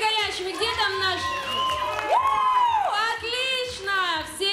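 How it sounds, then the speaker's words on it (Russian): A live audience applauds and cheers at an event, with whoops rising over a dense crowd roar while a voice talks loudly over the noise. "Давайте проверим аплодисментами! Ну и криками горячими"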